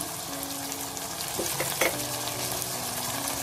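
Tomatoes, garlic, turmeric and sambar powder sautéing in a pan for a white kidney bean tamarind curry, a soft steady sizzle with a couple of brief clinks from a spoon, fairly quiet and without speech.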